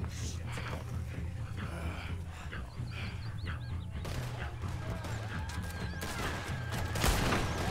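Gun firing high-explosive rounds in Red Dead Redemption 2, a series of booming shots amid chaotic game noise, with a voice speaking over the action.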